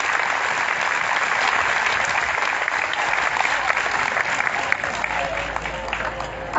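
Steady, dense applause from a crowd of striking Anganwadi workers at an outdoor rally in Delhi, loud and continuous with no letup, a faint voice audible underneath.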